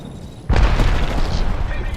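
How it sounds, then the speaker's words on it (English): A grenade detonates in the Apex Legends battle royale shooter, a sudden heavy boom followed by a sustained rumbling roar, while game voice chatter continues underneath. "Look out. Grenade."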